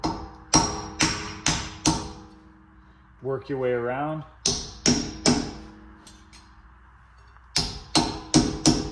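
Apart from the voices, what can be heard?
hammer tapping chisel to remove wheel dust cap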